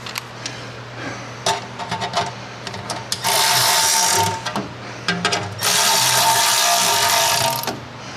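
Ratchet wrench tightening the inspection cover bolts on a 1978 Ford LTD wagon, close clicking in short bursts broken by pauses and two longer stretches of rapid ratcheting.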